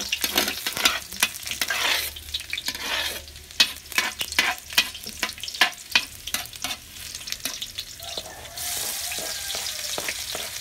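Garlic sautéing in a pan for spaghetti sauce at a children's feeding program, with steady sizzling broken by frequent loud clacks of a spoon stirring against the pan, and a brighter burst of sizzle near the end.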